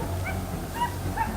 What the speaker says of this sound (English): The sharp barking of the hunting dogs and the shouting of our teammates